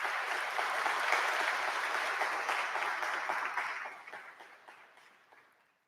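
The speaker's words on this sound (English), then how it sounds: "So a round of applause to all of you." Audience applause fills a conference keynote hall, a steady dense clapping from a large crowd that holds strong for several seconds, then thins and fades out toward the end.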